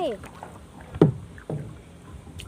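A paddle dips and pulls through river water from a small boat, with two distinct close splashing strokes about half a second apart, and a voice briefly heard at the start.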